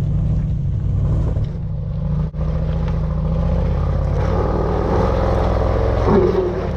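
A Range Rover Sport's engine rumbles and revs under load as it launches in off-road traction mode up a muddy hill, loud and continuous with a brief dip.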